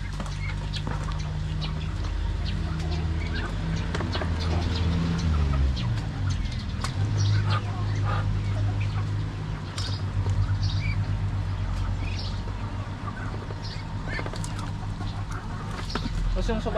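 Backyard chickens cluck and squawk close by, mixed with a rooster, while a person talks over a steady background hum.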